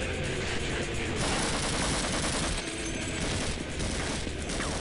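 Dense, continuous gunfire from the Half-Life video game, with overlapping bursts and automatic fire forming a loud, sustained barrage with no talking.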